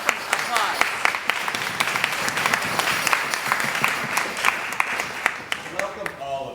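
An audience claps to welcome a museum director before a Middle Eastern music ensemble concert, with sharp individual claps standing out over a steady crowd patter, while a voice speaks toward the end.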